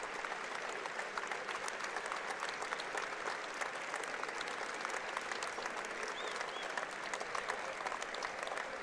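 A crowd applauds at a game on the Southern Utah University campus, sustained even clapping that sounds somewhat distant and keeps a steady level for several seconds.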